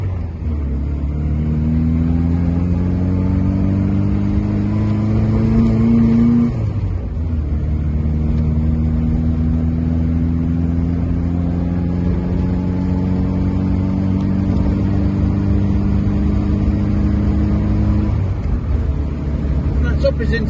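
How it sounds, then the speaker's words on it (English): A 1963 Morris 1000 factory Tourer with two aboard pulls from a standing start up a hill, its loud, close engine drone climbing in pitch, dipping briefly at a gear change, then rising again through the next gear. "standing start, we're going to accelerate through the gears,"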